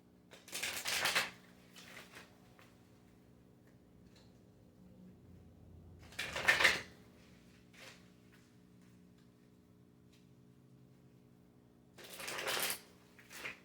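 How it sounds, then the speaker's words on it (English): Kali oracle cards being shuffled by hand, three short papery riffling bursts spaced several seconds apart with quiet pauses between, close and fairly soft. "I'm gonna pull some Kali cards."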